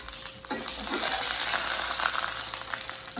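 Seitan sears in hot oil with a loud, dense, crackling sizzle and scattered sharper pops throughout, close by and steady.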